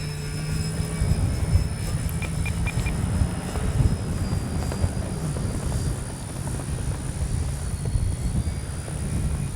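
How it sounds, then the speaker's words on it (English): Dynam Grand Cruise RC model airplane flying in windy weather, a steady droning buzz of its electric motor and propeller holding constant and fairly distant over wind noise. "Good flying plane."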